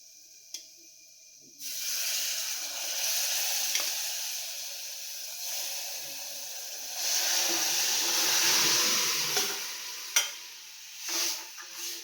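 Tempering for a radish and lentil sambar sizzles in hot oil, a sudden hissing burst after a quiet start that continues steadily, swells louder near the end, and is punctuated by a few sharp clicks of stirring.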